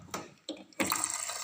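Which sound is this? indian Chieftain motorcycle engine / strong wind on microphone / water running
water running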